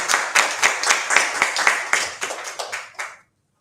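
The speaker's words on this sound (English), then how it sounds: "Let's clap the speaker." An audience at an academic conference session applauds a presenter, a brisk burst of many hands clapping in an indoor room that fades out abruptly after about three seconds.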